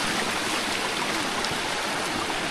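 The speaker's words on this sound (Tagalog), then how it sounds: "lumakas yung tubig sa sapa" A stream swollen after heavy rain and a hailstorm rushes past, a dense, steady broadband wash of flowing water heard close and loud, with no voices.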